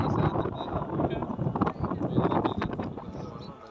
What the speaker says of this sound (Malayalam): നല്ല കാറ്റാണ് ഇവിടെ